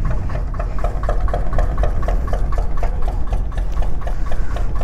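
A small boat's engine runs steadily with a fast, even mechanical chugging pulse and a constant low rumble, loud and close, with no voices.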